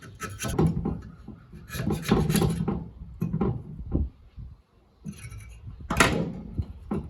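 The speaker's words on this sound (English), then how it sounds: "just take our little scraper, scrape each blade off on both sides." A small scraper rasps buildup off the blades of a fan wheel during cleaning of a G4000 unit, with close, repeated gritty strokes in short bursts and brief pauses.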